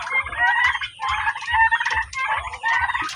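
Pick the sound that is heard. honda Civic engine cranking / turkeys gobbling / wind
turkeys gobbling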